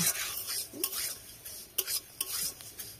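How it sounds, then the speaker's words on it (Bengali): Gobindobhog flattened rice (chira) frying in a wok crackles with a steady close sizzle, interrupted by several sharp scrapes and taps of a spatula stirring the grains. "প্রথমে আমি এখানে চিড়েটাকে ভেজে নেব।"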